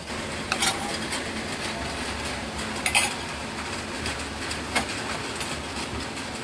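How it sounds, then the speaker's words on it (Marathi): Ground biscuits being stirred into melted butter in a bowl for a home-made cheesecake base, heard as steady scraping and clinking of a utensil against the bowl with a few sharper knocks, close and alone. "आपण मिक्स करून घ्यायचं आहे हे बटर आणि हे बिस्किट्स"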